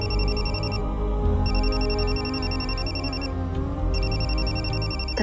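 A telephone rings in an indoor drama scene, its electronic ringtone sounding in repeated bursts with short gaps, loud over a low background music bed, and no one speaks.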